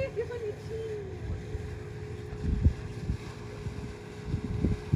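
A boat moves across open water at a Maldives water villa resort, a steady low engine rumble mixed with wind buffeting the microphone and a faint tonal hum, continuous and moderately close, with no talk.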